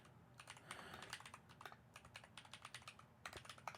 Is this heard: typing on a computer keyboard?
yes